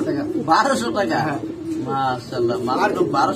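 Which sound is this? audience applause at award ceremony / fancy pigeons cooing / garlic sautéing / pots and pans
fancy pigeons cooing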